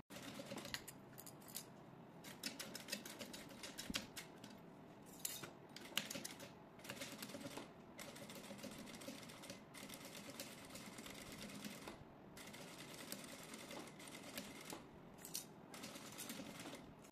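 A sewing machine stitches a small zipper wallet, running in a fast, even needle patter close up with brief pauses and faint clicks between seams.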